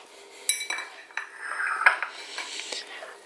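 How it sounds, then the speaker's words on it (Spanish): A whisk stirring strained homemade custard mixture in a metal pot, with irregular clinks and scrapes against the sides, close and fairly clear, no voices. "vamos removiendo con la varilla"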